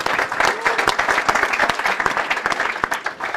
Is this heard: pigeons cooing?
no